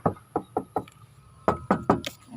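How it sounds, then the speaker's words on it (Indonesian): Knocks on the rear body panel of a 1995 Isuzu Panther with manual transmission: two short series of four sharp, hollow raps, close and fairly loud, with a brief pause between the groups and no talk. "Kita ketok bodinya."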